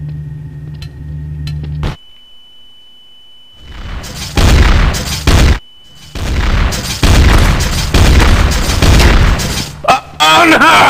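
In Counter-Strike: Source on the Nuke map, a grenade goes off with a loud, heavy boom, followed by bursts of gunfire and further blasts, with players chatting over the action.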